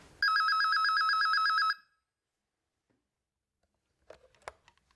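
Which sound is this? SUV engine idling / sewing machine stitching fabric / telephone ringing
telephone ringing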